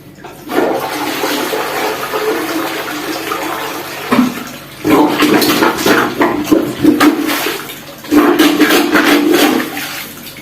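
A toilet flushes and drains slowly, its bowl partly blocked by a clog: a loud, steady rush of water that pauses briefly, then surges again twice, close by with no talk.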